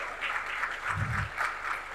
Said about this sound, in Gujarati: ખૂબ તાળીઓના અભિવાદન સાથે